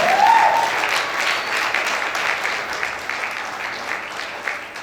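Loud, steady applause from an audience at a success celebration event, a dense continuous patter of many hands lasting throughout with no speech over it.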